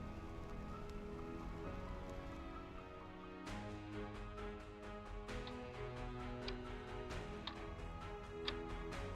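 Soft, continuous rain patters faintly under a sustained tonal background, with scattered drops ticking throughout in a scene from the video game Reverse: 1999.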